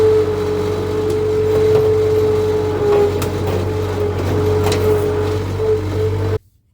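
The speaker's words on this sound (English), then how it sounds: "I'm going to pull it with my skid steer" A skid steer strains to pull down a chained wall of a storm-damaged barn. Its engine drones loud and steady nearby with a low hum, then cuts off abruptly at the end.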